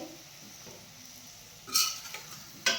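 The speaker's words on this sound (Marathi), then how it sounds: "आता यामध्ये आपण भाज्या घालून घेऊयात आणि छान हे मिक्स करून घेऊयात" Vegetables and paneer being stirred into fried spices in a pan for veg biryani, a faint low sizzle with soft scraping and a couple of sharp utensil clinks near the end.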